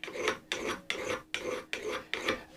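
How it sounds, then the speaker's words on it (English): A fine file rasps across the edge of a hand tool being sharpened, five even back-and-forth strokes about half a second apart, close and clear with nothing else audible. "You can use a particularly fine file."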